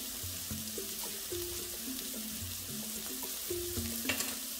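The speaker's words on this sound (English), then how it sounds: "so these are my peppers and onions sauteed for a little bit. I'm gonna add a little bit more butter." Peppers and onions sauteing in butter in a pan, about to have kale added, giving a soft continuous sizzle with a few light utensil touches, close and fairly quiet with no voices.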